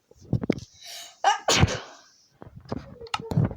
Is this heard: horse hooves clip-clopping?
no